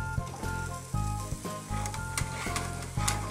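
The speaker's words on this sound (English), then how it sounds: "now I've added that to this gravy to thicken it up and flavor it further." Vegetable gravy thickened with cornstarch and Worcestershire sauce sizzling and simmering in a pan, with repeated stirring scrapes and soft knocks in an uneven rhythm, close and fairly quiet with no talking.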